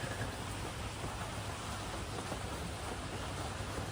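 Steady rain falls during a walk around a marina in Phuket, Thailand, a dense, even hiss of drops on surfaces that persists at a constant moderate level throughout, with no voices.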